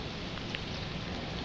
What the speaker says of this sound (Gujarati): ફૂલ વરસાદ પડે.